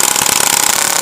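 A Bosch GDS 1000C twin-turbo impact wrench runs in fast screwing mode, a loud, close, rapid hammering rattle at an even rate for about a second.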